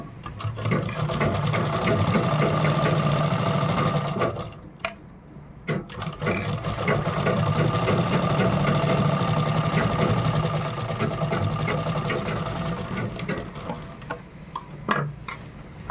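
A sewing machine stitches a V-neck designer blouse in a steady, loud mechanical whir that pauses briefly near four and six seconds and then runs on, close and alone.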